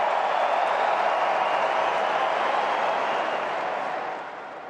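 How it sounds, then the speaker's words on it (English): A large tennis crowd at the US Open cheers and applauds in a broad, steady roar that holds loud for several seconds, then fades slightly toward the end. "Here comes the crowd."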